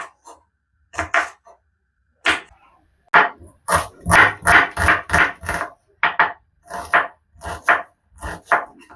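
Carrots and broad beans chopped into small cubes with a knife on a board, quick irregular clusters of sharp close knocks separated by short pauses, with no talk.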